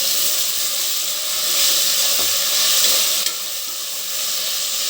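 Tomato sizzling steadily in a hot pan for chicken pulao, a loud continuous frying hiss with no talk, and one brief clink partway through.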